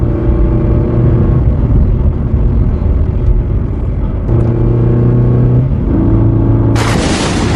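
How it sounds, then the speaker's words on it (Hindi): A merchant's car rolls into a village as a story sound effect: a loud, heavy engine drone and rumble with steady tonal hum throughout, ending in a sudden burst of bright hiss. "तभी एक व्यापारी अपनी गाड़ी से गांव में आ जाता है।"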